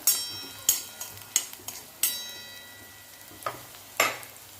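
Chopped onion roasts in a pan with peanuts, giving soft sizzling under a string of sharp scraping and clinking strokes from the stirring spoon, spaced unevenly and heard close without talk.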